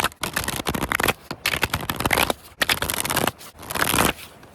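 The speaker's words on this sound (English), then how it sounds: "Let's shuffle your deck" A tarot deck is shuffled by hand in rapid rustling, riffling bursts of card flicks, loud and close, broken by brief pauses between runs.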